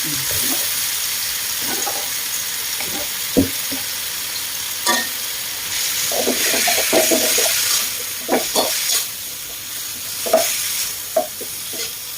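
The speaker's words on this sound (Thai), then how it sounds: "ผัดจนกว่า หมูจะสุก แล้วก็ จนกว่ามันจะเปลี่ยนสีนะ" Minced pork stir-frying in a pan for a Thai young-tamarind chili dip, a steady sizzle under repeated scraping and clanking of a spatula against the pan, close and fairly loud.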